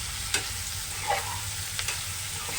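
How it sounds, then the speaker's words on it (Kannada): Bitter gourd palya stirred in a pan, a steady soft sizzle of frying with a few light spatula scrapes, no talk. "ನೋಡಿ, ಮಿಕ್ಸ್ ಮಾಡ್ತಿದ್ದಾರೆ."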